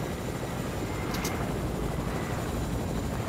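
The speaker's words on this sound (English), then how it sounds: "Come on, get in the chopper!" Fortnite helicopter with steady, loud rotor and engine drone running without a break throughout, close by and unaccompanied by speech.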